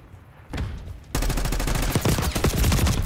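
Gunfire in Call of Duty Black Ops 6 opens with a single shot, followed by dense automatic bursts that crack rapidly and loudly for the rest of the moment, with no voices.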